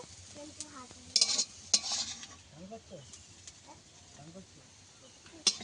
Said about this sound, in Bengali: পেঁয়াজটা আমি আর একটু ভেজে নেব।